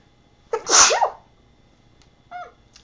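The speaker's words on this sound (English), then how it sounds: "I feel like I also have to sneeze." A single sharp human sneeze bursts out close and loud, followed by a brief faint sniff-like sound in an otherwise quiet room.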